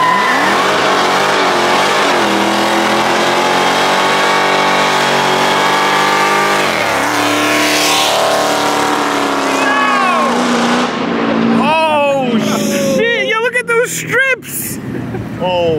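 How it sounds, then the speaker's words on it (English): Honda Civic EK hatchback doing a long burnout on the street, its engine screaming at high revs with continuous loud tire squeal, then dropping off into bursts of chirping as it lets up; people talk over the noise. "That was like a 70 mile an hour burnout."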